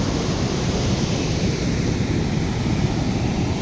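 Steady, loud rushing of churning floodwater released from Wawa Dam in Rodriguez, a dense continuous roar with no pauses, buffeted by gusts of wind noise against the microphone.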